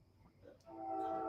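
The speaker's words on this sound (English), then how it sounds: "the train?" A train in Hornell, New York, sounds a sustained horn that begins partway through, following a brief stretch of quieter rumble and low voices.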